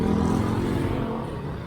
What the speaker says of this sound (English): Problem is, he's in a car.